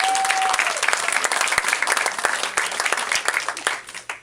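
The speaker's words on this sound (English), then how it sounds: "I'd like to applaud that." An audience at an anniversary celebration breaks into applause, a loud, full burst of many hands clapping with sharp individual claps standing out, gradually thinning toward the end.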